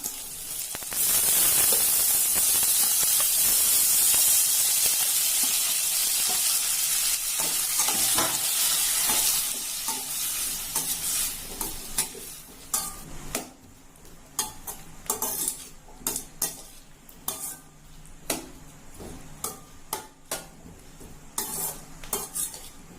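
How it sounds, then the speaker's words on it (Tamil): Tomatoes sautéing in a pan for Tamil tomato chutney: a loud sizzle fades after the first half, then a ladle scrapes and taps against the pan in repeated strokes. "இது 3 நல்லா வதங்கட்டும்"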